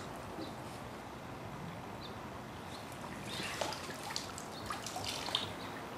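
Swimming pool water is scooped into a test vial, heard as faint, scattered drips and small splashes against a quiet background.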